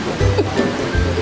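River water rushes steadily through a forested canyon in Lynn Canyon Park, North Vancouver, a loud continuous broadband roar with low rumbling surges and no pauses.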